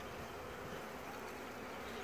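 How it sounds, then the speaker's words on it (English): Honey bees buzzing inside a crowded hive, a soft continuous drone heard faintly and steadily throughout, with no voices. "there's so many bees in here"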